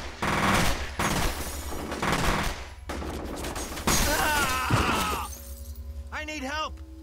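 Gunfire in the shooter video game F.E.A.R.: loud rapid bursts of automatic fire and shattering impacts in quick succession, with a voice speaking over the combat and game voices near the end.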